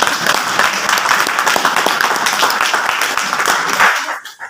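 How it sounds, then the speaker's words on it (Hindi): An audience at a marketing meeting clapping briefly, a dense burst of many hands applauding at close range for about four seconds before quickly fading out. "छोटा ताली होना चाहिए"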